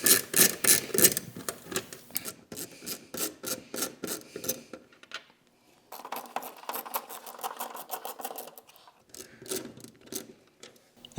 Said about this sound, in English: Using a T30 Torx socket, we're going to go ahead and remove 4 of these bolts right here that are underneath the spoiler